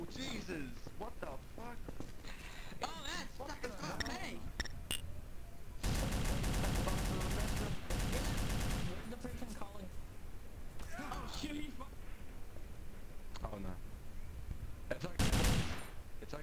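Gunfire from a World War II online role-play game, with scattered single shots followed by a long dense burst of automatic fire and another short volley later, loud and close, while players talk over it.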